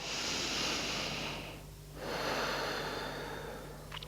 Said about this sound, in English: Take one breath here.